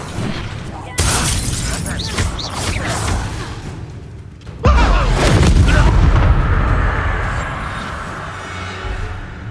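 Confringo blasting spells in Hogwarts Legacy, two loud explosive blasts with crackling debris and whooshing magic, mixed with spoken spell incantations and character voices.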